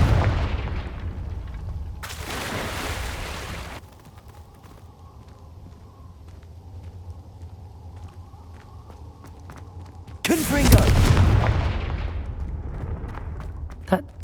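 Explosive Confringo spell in Hogwarts Legacy, two loud bursts of blast noise, the first early and the second late with a rumbling tail, between quieter cave ambience and footsteps.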